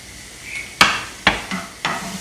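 Chopped onion and garlic sautéing in a pan while being stirred, with three or four sharp scraping stir strokes over a soft sizzle, close and fairly quiet, no talking.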